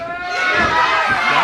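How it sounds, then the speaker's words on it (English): Wrestling fans at a Big Time Pro Wrestling Texas tag team title match, a crowd chanting USA as a rising, rhythmic swell of many voices in the arena. "Crowd trying to get behind the Cowboys with the USA chant"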